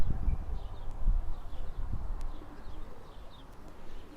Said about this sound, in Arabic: هاي جت الطيور.